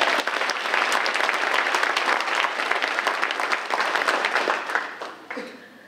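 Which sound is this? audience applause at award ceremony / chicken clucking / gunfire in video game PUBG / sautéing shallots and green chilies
audience applause at award ceremony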